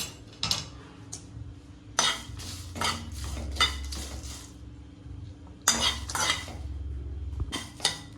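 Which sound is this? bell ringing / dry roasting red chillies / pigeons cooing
dry roasting red chillies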